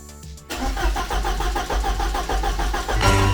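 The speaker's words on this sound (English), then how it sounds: "The car starts." A car engine cranks and catches in a garage, then settles into a loud, steady running rumble for the rest of the clip, with no talk over it.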